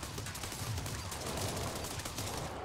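Rapid, dense gunfire from a TerraTech multiplayer battle, a continuous crackling barrage of shots running steadily throughout at a fairly low level, with no pauses.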